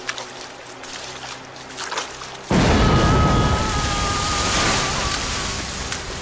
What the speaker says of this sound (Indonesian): Ranjau meledak, dan ia pun gugur.